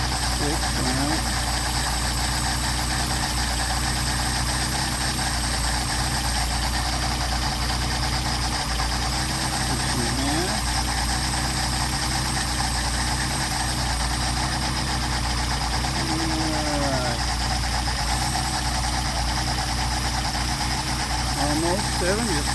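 Mercedes 190SL engine idling on Solex carburetors: a loud, steady close-up idle with a constant low rumble and mechanical clatter, with intermittent voices under the engine noise.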